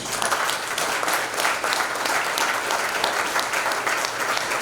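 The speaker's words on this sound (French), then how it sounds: "je pense que ça mérite d'être applaudi" Audience applause at a scientific conference day, a steady dense clapping that holds at an even level from start to finish, with no voices over it.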